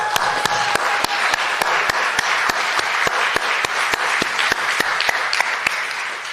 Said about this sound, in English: please join me in a round of applause for all of the caucus volunteers